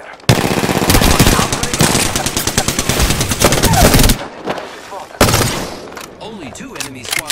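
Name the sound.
gunfire in the video game Apex Legends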